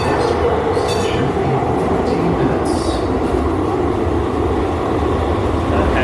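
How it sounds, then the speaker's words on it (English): A Muni train runs at Forest Hill station, the deepest underground stop, with a loud, continuous rumble of wheels and motors filling the platform, and brief high squeals and hisses on top. "the train that we want is right there."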